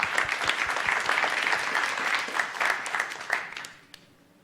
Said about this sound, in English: So let's give a round of applause for the Lady SaberCats.